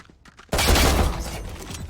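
A sudden loud burst of gunfire in the tactical shooter Valorant during an esports match, hitting hard after a quiet moment and then sustaining as a dense, noisy wash.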